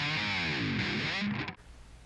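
A distorted electric guitar chord rings out and sustains, then cuts off abruptly, leaving quiet room noise.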